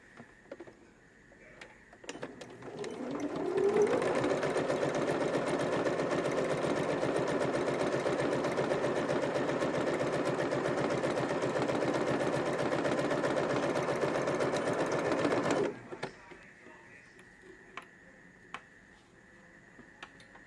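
A sewing machine stitches a bottom pocket on a card-slot wallet, running steadily and fairly close for about twelve seconds after a brief start, then stopping abruptly into quiet room tone.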